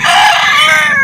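Chickens at a poultry market cluck and squawk loudly and continuously, a dense, close chorus of many birds with no pause.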